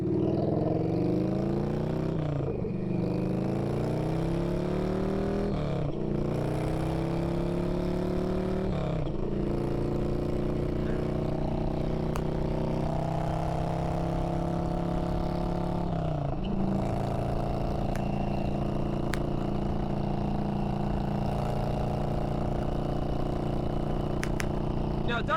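An Orange County Chopper motorcycle engine roars at close range on a highway, its pitch rising through several gear shifts as it accelerates, with a few brief drops in sound between shifts.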